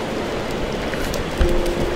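Steady rain hisses evenly throughout, with a brief low thump partway through and a faint tonal hum underneath; no one speaks.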